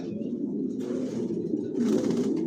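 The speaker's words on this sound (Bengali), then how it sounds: "জনসন লাইনের লংয়ের কবুতর দিয়ে শর্ট, মিডল, লং সবভাবে রেস করা যায়।" A Johnson-line racing homing pigeon coos in a low, rolling, continuous murmur close to the listener, with no talk over it.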